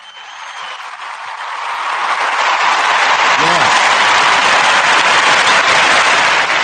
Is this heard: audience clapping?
yes